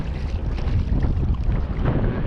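Strong wind buffets the microphone on a squid-fishing trip out on the water, a steady loud rumbling roar that lasts throughout without any talk.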